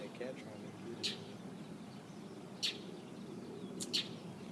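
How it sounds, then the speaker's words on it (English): A bird squawks at a cat, sending out brief, sharp calls spaced a second or more apart, including a quick double call near the end, over a faint, steady background. "bird is sitting there squawking at the cat"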